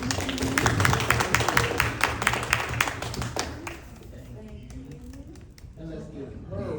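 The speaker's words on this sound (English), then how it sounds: "Round of applause." Applause from an audience at a youth talk event, starting as dense, loud clapping that fades after a few seconds into scattered claps under a speaking voice.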